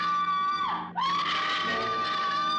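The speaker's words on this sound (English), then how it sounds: "This scream is so ugly." A horror movie character lets out a loud, shrill, sustained scream that dips sharply in pitch for a moment before climbing back and holding at full strength.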